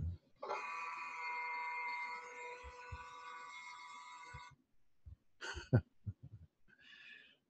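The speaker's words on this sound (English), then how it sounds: "That was the little notice to myself that pops up with an alarm." Computer alarm notification popping up on screen, a sustained bright tonal chime lasting about four seconds, followed by a few short clicks and a brief faint tone at the end.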